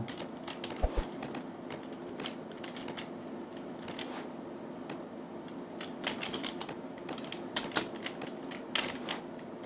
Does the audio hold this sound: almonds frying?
no